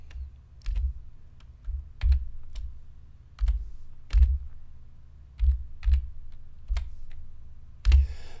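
Computer keyboard keys pressed while entering notation in music software, about a dozen soft thumping clicks at an uneven pace, close and isolated, ending with a slightly louder press.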